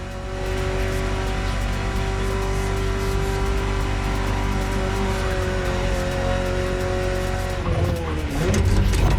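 A BMW E30 is driven in The Crew Motorfest, its engine holding a steady, loud drone with a tonal whine that shifts pitch near the end as the car changes speed.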